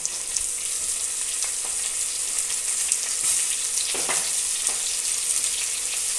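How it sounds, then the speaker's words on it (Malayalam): Sliced tomatoes sizzle in hot oil in a pan as part of a spicy fish dish, a loud, continuous close frying hiss with a few soft stirring taps and no voices. "ഇനി നമുക്കിതിലേക്ക് നീളത്തിൽ അരിഞ്ഞു വെച്ചിരിക്കുന്ന തക്കാളി ഇട്ട് കൊടുക്കാം"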